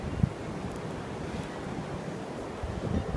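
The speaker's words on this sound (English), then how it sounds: "the snow is just blowing like crazy" Blizzard wind blowing snow, a steady rough gusting rush buffeting the microphone with a brief thump near the start, moderately loud and without talk.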